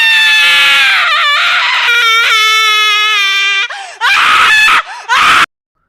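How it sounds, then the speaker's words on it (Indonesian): A woman screams hysterically in a comedy-horror setting, loud and close: long wavering high-pitched wails, then broken cries and gasps that cut off abruptly. "Setelah sadar apa yang terjadi, wanita itu pun menjerit histeris."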